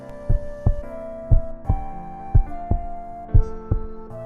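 Heartbeat sound effect: a slow, regular lub-dub thumping, paired low beats repeating evenly about every second, deep and soft under a sustained musical hum, with no voices.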